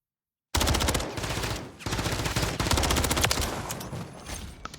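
Rapid automatic gunfire in the Call of Duty MW3 video game, loud close bursts firing almost continuously after a brief silence, with a short pause midway.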